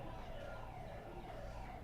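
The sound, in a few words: siren alarm in the distance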